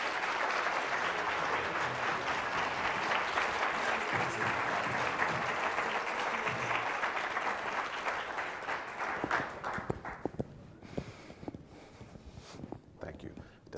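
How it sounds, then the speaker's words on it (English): An audience applauds a corporate culture speaker, with sustained, full clapping for about nine seconds that gradually thins into scattered claps. "Can I get one more round of applause for Michael C. Bush?"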